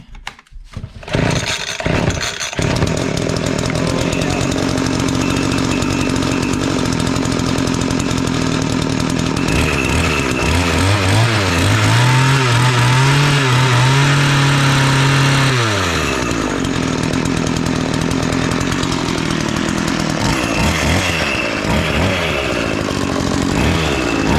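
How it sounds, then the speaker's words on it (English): A 22-inch Weed Eater Excalibur hedge trimmer with a freshly cleaned carburetor is pulled a few times, fires up and runs loud and close, its two-stroke engine revving up and settling back to idle. "Hopefully with the clean carburetor, this actually fires up and runs."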